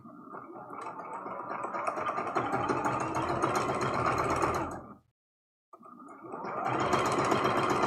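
A sewing machine stitching a seam joining rows of a heart rag quilt, running as a close, steady mechanical whir, stopping abruptly for a moment of silence, then starting up again.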